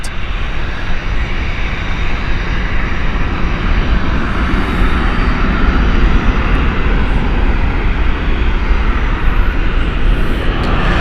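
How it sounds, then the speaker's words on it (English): Jet airliner engines at Gatwick Airport, a loud continuous roar that fills the whole stretch without a break. "I've got a WestJet as well taxiing, folks."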